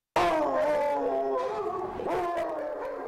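Dogs at the Bakersfield animal care center howling together in a sustained, mournful chorus that fades only slightly, close and fairly loud with no talk.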